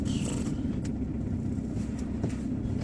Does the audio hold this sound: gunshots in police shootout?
no